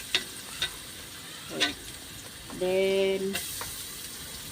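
Garlic sautés in butter in a pan with a soft, low sizzle, broken by a few sharp clinks of a utensil, while a voice speaks briefly partway through.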